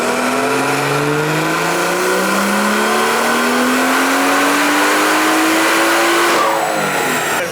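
A BMW engine on an E85 flash tune revs hard during a fifth-gear dyno pull, its loud rising drone climbing steadily for several seconds before cutting off near the end.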